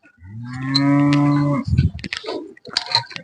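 A dairy cow on a farm moos loudly and at length, a deep drawn-out low that holds steady for over a second before breaking off, followed by rustling and shuffling noises.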